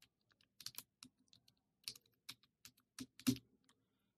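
Keystrokes on a computer keyboard while typing a short phrase into Photoshop, about a dozen distinct clicks in two quick bursts, close and clear with no talking.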